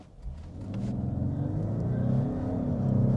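A 2025 Lexus LX 700h Overtrail hybrid accelerating at full throttle, its engine rumbling and rising steadily in pitch as it pulls hard, heard from inside the cabin with no talk.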